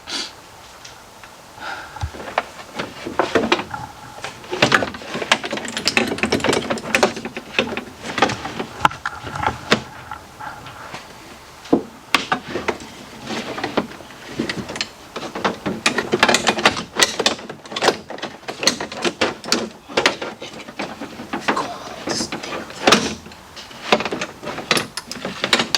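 Chevy Equinox power window motor driving the glass down, a strained mechanical whir that surges and stutters with scraping and clunks over about twenty-five seconds, fairly close and loud, with no talk.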